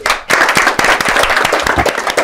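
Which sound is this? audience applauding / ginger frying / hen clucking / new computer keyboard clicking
audience applauding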